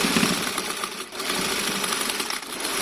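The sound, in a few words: sewing machine stitching fabric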